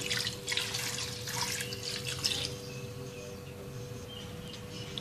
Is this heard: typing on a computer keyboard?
no